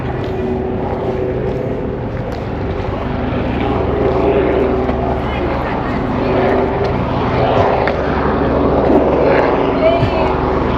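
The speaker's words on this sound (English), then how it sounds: "Helicopter." A helicopter passes overhead above a hillside home with a shallow pool, its steady low rotor drone rumbling continuously in the background while people talk nearby.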